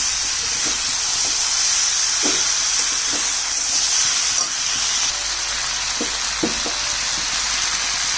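Mixed vegetables for shukto, a Bengali dish, fry in a pan with a steady broadband sizzle, punctuated by a few soft clicks of stirring and no speech.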